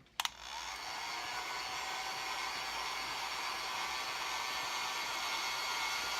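Hair dryer blowing steadily on freshly misted paint on a sculpted head, a brief click then a continuous close whooshing roar with no talk.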